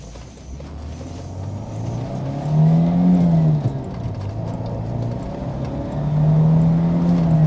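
A Citroen CX Turbo 2 Prestige with a rough-running turbo engine pulls through the gears, its loud engine note rising, dropping at a shift, then climbing again, heard from inside the car.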